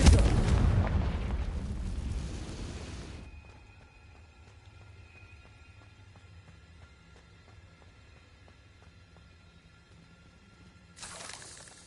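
A Confringo blasting spell in the video game Hogwarts Legacy, setting off a loud booming explosion that fades into a long quiet rumbling tail before a second blast starts at the end.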